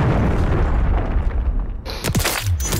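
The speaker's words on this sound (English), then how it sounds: "Hostile cruise missile incoming." A cruise missile explodes in a video game: a loud, deep, rumbling boom fills the clip, then sharper bursts and crackling debris arrive near the end.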